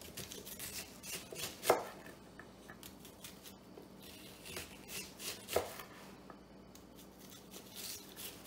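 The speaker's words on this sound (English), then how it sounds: "When they say finely chopped onions or chopped onions, you can make the chunks as big or small as you want" A kitchen knife chops onions on a board at home while making Russian meatballs, a quiet irregular patter of soft cuts with a few sharper knocks, close and alone.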